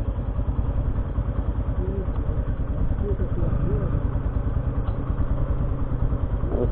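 Motorcycle engine running low and steady on a rough, broken road, a close rhythmic chugging idle with faint rattles.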